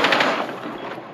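Rapid video game gunfire in a tactical shooter match, a dense burst of loud, close shots at the start that thins into a steadier crackle of fire.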